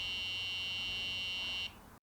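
A Phantom chessboard device gives a long, steady electronic beep, a single sustained tone that holds for about a second and a half before cutting off abruptly.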